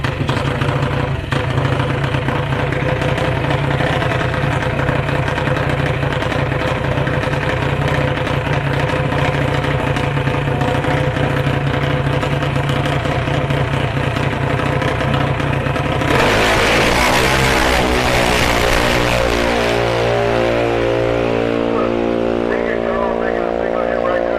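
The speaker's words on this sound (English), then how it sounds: "Waiting for the other dragster to get off. There it goes." A dragster launches at a drag race at Orlando Speed World: a steady, loud engine drone holds for a long stretch, then a sudden surge of roaring revs takes over near the end.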